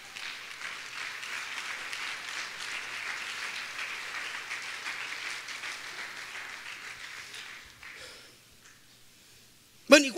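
A church congregation applauds during a sermon, a dense, steady wash of clapping that holds for several seconds, then fades out, followed by a brief sharp noise near the end.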